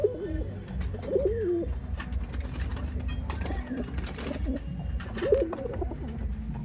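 Kaldom pigeons coo in repeated low rolling phrases, close and clear, over a steady low background rumble with occasional rustling and faint wing movement.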